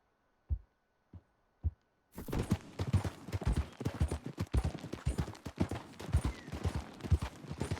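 Horse hooves clip-clop in Red Dead Redemption 2: three soft isolated hoof thuds, then a dense, steady run of rhythmic hoofbeats over a busy game soundscape.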